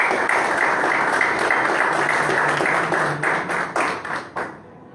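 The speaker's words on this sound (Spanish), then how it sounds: "un aplauso por favor para Carol" An audience at a book presentation in Santa Cruz applauds Carol, who joins over Zoom. The dense clapping fills the room, then breaks into scattered final claps and stops abruptly.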